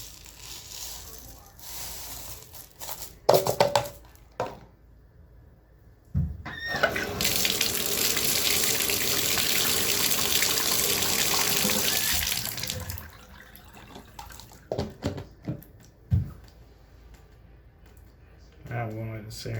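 A tap refills a clogged bathtub drain with water. The hiss of the running water builds for about six seconds and then stops. Clicks and knocks come before and after it, and a voice is heard briefly.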